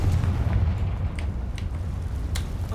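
A Confringo blasting spell explodes in the Hogwarts Legacy video game, a heavy, sustained booming rumble with a few crackling bursts, loud and continuous throughout with no talking.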